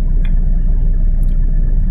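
Heavy road traffic on EDSA in Metro Manila gives a loud, constant low rumble of engines, with a couple of faint high chirps briefly on top.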